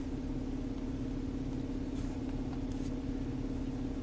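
A Nissan engine idles steadily at about 675 RPM after its throttle body has been cleaned. The low rumble is constant and even, with no speech over it.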